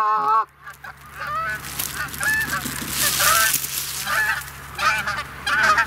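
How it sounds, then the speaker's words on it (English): Geese in a low flock call overhead during a hunting season opener, a chorus of repeated honks rising and falling in bursts across the whole stretch, fairly close and loud over a steady low hum. "See the low flock? I don't, but I hear them."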